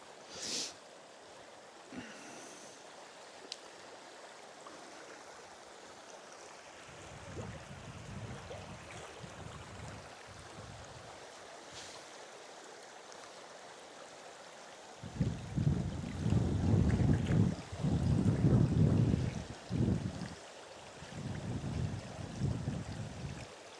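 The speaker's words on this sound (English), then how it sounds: "To enjoy the stream sound, it's very calming." A stream flows through a Caledonian pine forest in Scotland, giving a soft, steady rushing wash, with louder rumbling gusts or surges coming and going in the second half.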